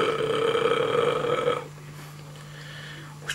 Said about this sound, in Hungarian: Amint minden állatnak neki is kell böfögnie.